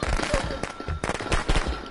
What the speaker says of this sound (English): Watch out, fireworks, fireworks!